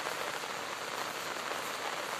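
Rain pours steadily over misty grazing fields with cows and sheep out in it, an even, unbroken wash of close drops hitting the ground and foliage, without any voices.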